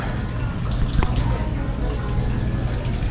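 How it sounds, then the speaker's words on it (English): An outdoor water fountain in the Smokies splashes continuously with a close, even wash of falling water, and faint voices murmur underneath. "Nice waterfall. I mean water fountain."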